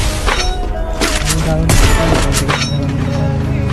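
Gunfire crackles in a shooter video game during a headshot fight, several sharp shots and booms in quick bursts mixed with thuds over a dense, loud game soundscape.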